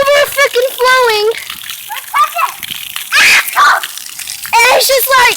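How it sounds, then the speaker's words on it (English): Water gushes and splashes from an overflowing fountain at a neighbouring house, a steady spattering rush heard under excited talking and a voice. "there's just a big fountain of water"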